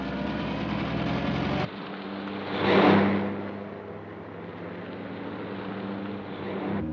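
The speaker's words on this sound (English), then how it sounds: "There's a car following us." A car engine drones steadily during a chase in the old film Night Train to Munich, the hum cutting abruptly to a quieter rumble, then a swelling whoosh as something rushes past before the engine settles again.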